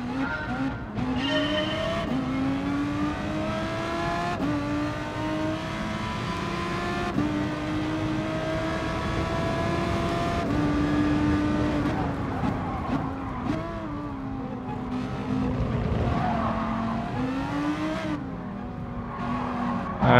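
Race car in GT Sport at full throttle, the engine climbing through gears with sharp shift breaks and bursts of tire skid, loud and steady with no talk over it.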